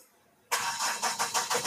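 A Mahindra Bolero engine, just reflashed with a Delphi ECM, cranks and catches after a quiet moment, then settles into a loud, pulsing run close by.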